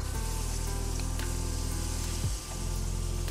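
Cut, washed bitter gourd pieces dropped into hot oil, giving a loud steady sizzle and crackle of frying that dips briefly partway through.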